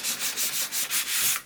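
Light hand sanding of a plastic Commodore Amiga 1200 computer case with 600-grit paper, heard as about seven rhythmic, even back-and-forth scrubbing strokes, close up and steady, with no voices.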